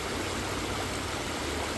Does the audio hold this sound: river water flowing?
yes